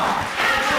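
A crowd at a darts match on the African Continental Tour roars and cheers as a leg is closed on double 5, with a sustained, loud wash of voices.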